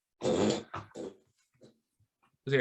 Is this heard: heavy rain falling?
no